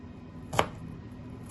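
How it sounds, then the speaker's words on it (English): Kitchen knife slicing through a shallot on a cutting board for tom yam soup, two crisp close chops about a second apart over quiet room tone. "Shallot, just slice it."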